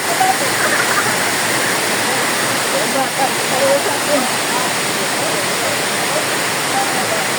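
Water rushes at Wawa Dam in Montalban, a steady, loud broadband roar of falling water that fills the whole stretch without pause, with faint voices mixed underneath.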